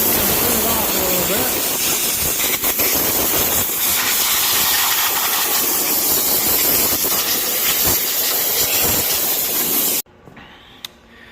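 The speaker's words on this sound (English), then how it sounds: "This is a 5 horsepower single phase electric motor." A 5 horsepower single-phase electric motor, probably salvaged from a grain bin, runs loud and steady with a broad hissing roar that cuts off abruptly near the end, leaving faint background noise.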